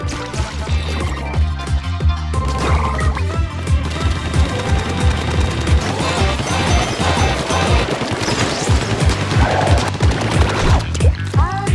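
Rapid bursts of ink-gun fire from the Splatoon video game, crackling continuously in dense volleys beneath loud, busy music and effects throughout.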